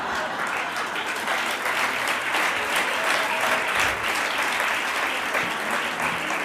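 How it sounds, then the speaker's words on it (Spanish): Sustained ovation from a conference audience in a hall, a dense, even wash of many hands clapping that stays loud and steady throughout, with no break and only faint crowd noise beneath. "Con una ovación como esta casi, y con una sonrisa de oreja a oreja."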